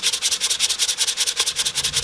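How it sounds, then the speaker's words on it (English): Quick back-and-forth sandpaper strokes rasp over the body of a cheap secondhand bass guitar during restoration, a steady fast rhythm of about eight strokes per second, close and loud with no voices. "I started sanding."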